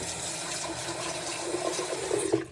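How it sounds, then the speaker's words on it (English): Water runs steadily through a stage 5 NU Aqua home water filter system, a continuous rushing flush from well water with a slight swell toward the end, with no talking. "give her a good old rinse"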